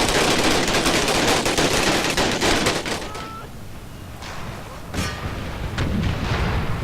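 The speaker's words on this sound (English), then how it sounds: "I want to show you my Gatling guns, because these are sick" Gatling guns firing in the Empire Total War Blue and Gray mod, with dense rapid bursts of loud shots for about three seconds, then sparser, softer reports and a few sharp isolated cracks.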